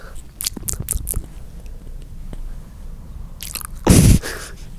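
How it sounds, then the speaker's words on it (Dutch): Wet lip-smacking and chewing sounds up close, a quick run of clicky smacks followed by quieter mouth noises and one louder crunchy burst near the end, with no voices. "Moet jij even zo smakken?"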